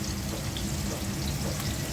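Onion frying lightly in a pan, a steady loud sizzle and crackle with no breaks and no talk.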